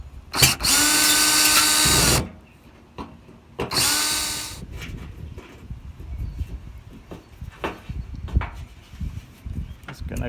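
A power tool spins screws out of the antenna on a Mustang GT in two loud, close bursts of whirring, the second shorter, followed by quieter clicks and handling noises.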